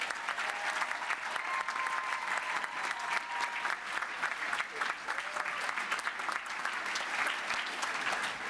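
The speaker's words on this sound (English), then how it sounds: "And another round of applause," Graduation ceremony audience gives a steady round of applause, dense many-handed clapping sustained for the full stretch at fairly even loudness, with a faint murmur of voices underneath.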